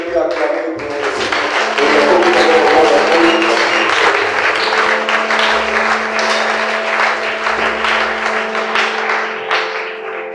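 A Pentecostal church congregation bursts into sustained applause and cheering, loud, dense clapping lasting many seconds, with a steady musical tone underneath and voices mixed in.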